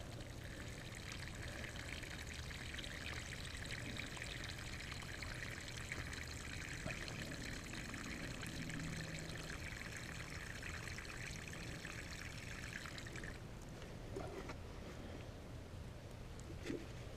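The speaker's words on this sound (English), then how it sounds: "so I just got the water can." Continuous steady splashing of water pouring from a watering can onto the ground in a tomato bed for a long stretch, then it tapers off to a softer trickle near the end.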